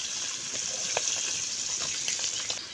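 Fish fries in hot oil in a pan during village-style cooking, a steady close sizzle with scattered small pops and crackles, with no talking.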